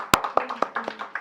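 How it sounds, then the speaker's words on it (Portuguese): Applause from a small audience at the close of a Portuguese-language lecture on early Christian pilgrimage and catacomb frescoes: crisp, evenly spaced claps, fairly close and sparse, with no talking. "mais uma salva de palmas"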